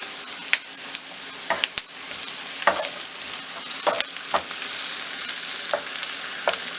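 Ginger garlic paste frying with chopped onion in a pan for pav bhaji, a steady close sizzle broken by scattered stirring scrapes and brief spatters, with no voices.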